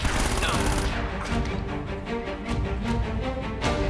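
Gunfire rattles in Uncharted: Drake's Fortune, a close burst of rapid shots that gives way to a series of sharp, evenly spaced cracks, with no speech in between.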